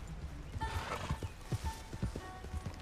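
A horse in Red Dead Redemption 2 gallops with a quick, rhythmic clip-clop of hooves, fairly faint, over a low ambient background.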